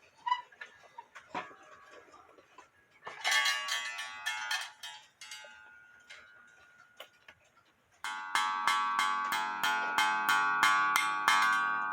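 An 1880 cuckoo clock with a wooden plate movement rings out a series of bright chime strikes, rising and fading in bursts. A louder, steady run of regular strikes closes it out, close by, with no talking.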